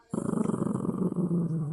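A dog growls low and continuously at close range, a rumbling, pulsing snarl that holds steady for a couple of seconds with no talk over it.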